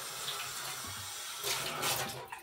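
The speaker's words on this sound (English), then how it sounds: "Alright, giving them a good rinse out." Bird feeding dishes rinsed under a running tap, with steady splashing water that swells and gets louder near the end, close and alone.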